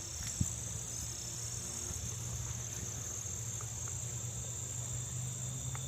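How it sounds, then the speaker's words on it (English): Continuous insect buzzing from bees swarming around trees in the woods, a steady high drone with a low hum beneath, fairly constant and moderately loud with no talk. "these trees are covered with bees"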